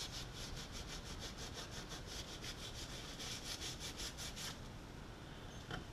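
Rhythmic back-and-forth scrubbing rasps against an old radio chassis to remove tar-like gunk where a transformer once sat, steady and close with strokes repeating about twice per second over a faint background hiss.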